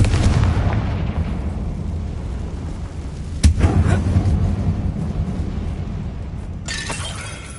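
A Confringo blasting-spell explosion: a heavy boom with a rumbling tail, a second sharp blast midway, then a crackling shatter of debris near the end.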